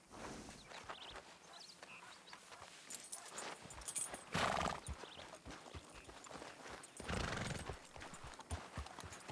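Horse hooves clip-clop in a steady walking rhythm, close and fairly loud, with a couple of whinnies breaking through in bursts.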